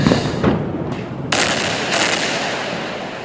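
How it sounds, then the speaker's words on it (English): An Israeli airstrike explosion hits the 14-storey Al Sharouk Tower in Gaza, a loud, broad roaring blast with a sharp surge partway through, followed by sustained rumbling debris noise. "An Israeli airstrike targeted another high-rise tower block."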